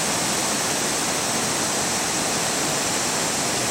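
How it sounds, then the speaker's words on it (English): Waterfalls rush with a dense, constant roar, loud and close, with no break and no voices. "It's the waterfalls."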